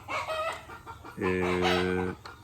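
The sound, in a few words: roosters and hens clucking and crowing in the countryside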